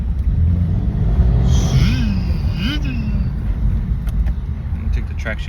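Turbochargers on a Cadillac CTS V-sport whine upward as the car accelerates, a rising whistle over a deep engine drone, with someone talking inside the cabin.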